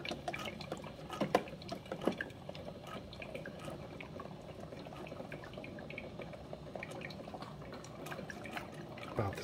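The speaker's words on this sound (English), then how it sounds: "That water coming out is pretty, pretty hot." Hot water trickling and dripping from a Hamilton Beach FlexBrew 2-way coffee maker, a faint continuous splashing with occasional louder drips.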